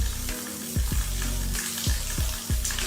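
Okra curry (bhindi palya) cooking in a covered pan on the stove, giving a steady close sizzle with a few soft knocks or stirs, and no talking.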